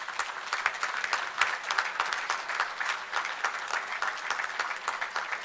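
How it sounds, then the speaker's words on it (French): Sustained, dense applause from a conference audience at an opening ceremony in Kinshasa, steady and fairly close throughout with no talk over it. "salués à la congolaise par des applaudissements très nourris de l'assistance"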